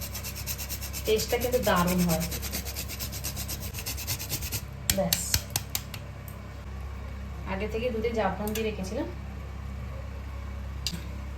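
Nutmeg rubbed against a grater in a home kitchen while making biryani, giving a few bursts of dry rasping strokes, with a voice talking over and between them.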